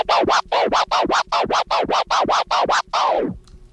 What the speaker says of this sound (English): the first scratch that everyone learns is called the baby scratch